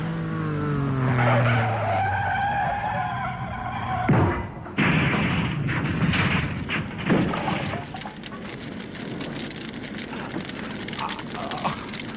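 Car skid in a radio drama crash scene: a long tyre screech with a falling engine whine, a sudden break, then rough scraping and crunching noise that fades into a steady rumble, loud and close with no voices.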